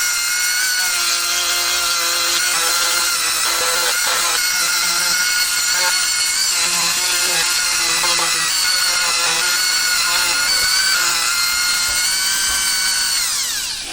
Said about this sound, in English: A little bit of a lip here I'm going to try to sand away.